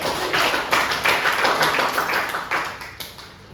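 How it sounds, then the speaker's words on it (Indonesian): Classmates clap for a pupil in a second-grade primary school lesson on fractions, a short burst of several hands clapping in uneven rhythm, moderately loud in a room, tapering off at the end. "Beri aplaus dulu untuk Fitri"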